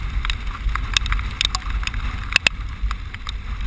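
Wind buffets the microphone during a motorcycle ride on the Oregon Backcountry Discovery Route, a constant loud low roar broken by sharp gusty crackles, with no talk over it.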